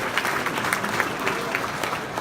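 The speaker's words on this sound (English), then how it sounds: "Give her a round of applause" Audience clapping at an awards and dinner gala as a presenter, an attorney, is welcomed; a sustained round of many hands applauding, moderately loud, with a faint crowd murmur underneath.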